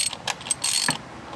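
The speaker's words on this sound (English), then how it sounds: "Let me see if I can screw it in a little bit further to give my wrench more clearance" A ratchet wrench clicks while turning a spark plug into a Kia 2.0L GDI engine, with close, sharp bursts of rapid ratcheting separated by short pauses.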